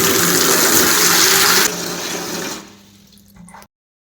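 Bore water from a home supply pours into a plastic tub, a loud steady gush that softens partway through as the tub fills, then drops further and stops abruptly.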